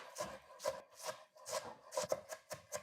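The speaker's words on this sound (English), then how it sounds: "I'm gonna chop the onion in small pieces" A knife chops a red onion into small pieces on a board, making about a dozen quiet, close, evenly spaced thuds in a brisk rhythm.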